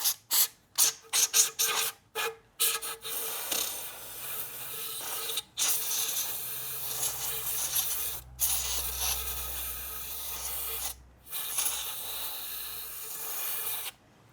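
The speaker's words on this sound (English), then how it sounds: "Let's give that a spray out with air" Compressed air blasts loose debris out of a Renault Clio's removed rocker cover: a run of short sharp hissing bursts gives way to a long steady near-continuous blast, with a few brief gaps and a final shorter burst.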